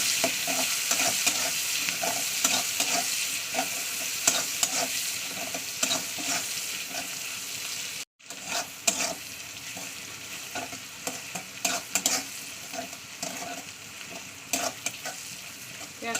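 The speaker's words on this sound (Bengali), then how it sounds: "একটা গোটা বড় পেঁয়াজ তেলটাকে একটু লালি করে নিতে হবে" A whole large onion fries in hot oil, a dense continuous sizzle with frequent crackles and occasional stirring knocks, close and steady, with a brief cut partway through and no talking.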